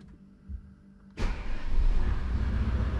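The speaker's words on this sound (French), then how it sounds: "là le véhicule a démarré" Audi SQ8 435 hp engine starting: a quiet interior hum with a faint click, then a sudden loud crank into a deep, steady rumbling idle that holds close and strong to the end.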